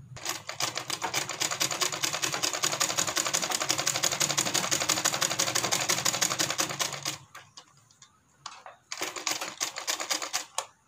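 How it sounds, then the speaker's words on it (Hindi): A sewing machine runs a long basting stitch on a blouse collar, a dense fast clatter that lasts about seven seconds, pauses, then restarts in short bursts, close up and with no talking. "तो पहले हम एक कच्चा सिलाई लगा लेते हैं, तो वो इसके ऊपर कच्चा सिलाई पहले लगा लेंगे"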